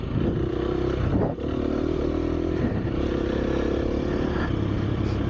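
A KTM EXC-F 250 dirt bike engine revs and drones close by while riding through thick mud, with a brief dip and clatter early on, no voices.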